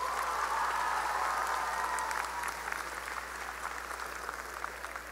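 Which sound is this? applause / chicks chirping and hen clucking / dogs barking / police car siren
applause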